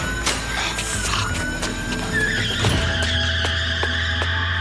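A Skoda car speeds off with tires skidding and squealing, a loud, continuous engine roar and screech layered with rattling knocks, close and unbroken, no speech.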